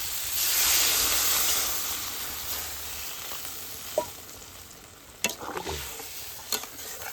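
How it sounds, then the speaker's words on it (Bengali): Silver carp curry with vegetables and spices cooking in a pan, a loud sizzle and hiss that settles as water is added, followed by a few scraping stirs near the microphone. "এবার আমি দিয়ে দেবো পরিমাণ মতো জল"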